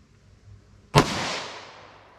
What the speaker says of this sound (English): Let's see how close we get to 1300 feet per second out of this 5-inch Smith & Wesson M&P pistol.